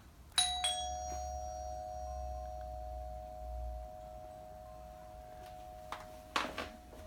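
A Ring doorbell chime, hard-wired to a Byron 776 unit, sounds a clear two-tone ding-dong close by that rings out and sustains over a quiet background, followed by faint clicks.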